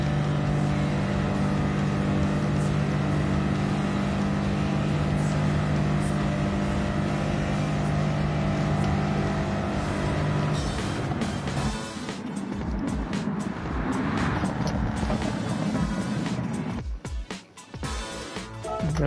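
A car engine in the racing game Gran Turismo 7 holds a loud, sustained drone at steady revs, then shifts into rougher, fluctuating revving and wind-like rushes toward the end, with no talking.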